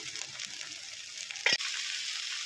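Spices frying in oil for a bottle gourd curry with ground cumin, salt and turmeric, a steady close sizzle throughout with a brief sharp crackle and clatter near the middle.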